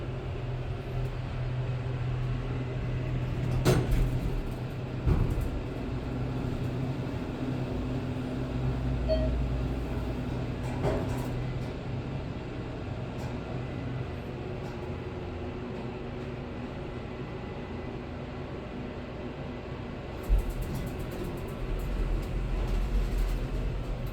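A modernized Dover Impulse TK hydraulic elevator riding in Venice, Florida, with a steady low hum and rumble throughout and a couple of sharp clunks, one early and one near the end.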